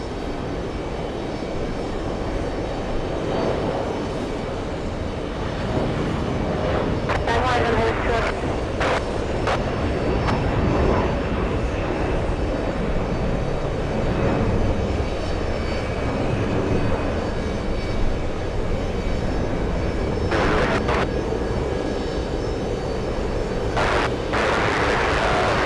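Jet airliners roar continuously at JFK Airport near the runways, a broad, loud rumble that swells and fades with occasional sharp bursts, and air traffic control radio chatter runs underneath.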